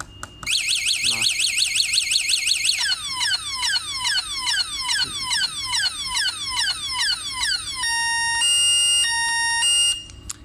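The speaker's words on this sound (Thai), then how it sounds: "ถ้าว่ามีโจรมาเสียบกระแจรถเนาะตัวนี้จะเสียงเตือน" An LM103a car anti-theft alarm sounds loudly, cycling through rising whoops, then a rapid series of falling chirps, then steady pulsed beeping tones, with a voice briefly audible at the start.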